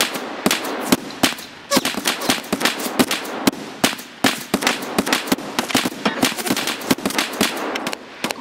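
Rapid gunfire bursts from a firefight in the video game Escape from Tarkov, with dense clusters of sharp, loud cracks firing in quick irregular volleys throughout, heard alone without talk.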